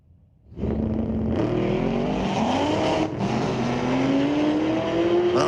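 Mustang and a 2016 Corvette launch side by side at a street-legal drag strip, engines roaring loud and close with rising revs after a brief quiet start, wheel spin churning under the sustained engine noise.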